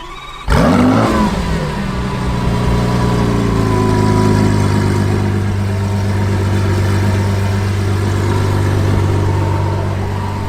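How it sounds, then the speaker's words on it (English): A Lamborghini Sian FKP 37 supercar engine fires up with a sharp burst, then settles into a loud, steady, deep idle that runs close by without interruption. "This sounds like no other Lamborghini in the world."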